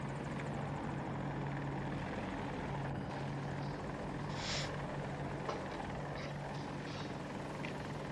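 An AH-64 Apache helicopter's steady rotor drone and engine hum continue throughout, loud and constant, with faint game-like clicks and effects on top, in a first-person shooter match.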